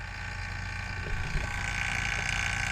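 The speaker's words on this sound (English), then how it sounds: "little vacuum pump action here" A small vacuum pump on a John Deere 7520 4WD tractor's air conditioning system drones steadily with a mechanical whir and faint rattling, continuous and fairly close, without voices.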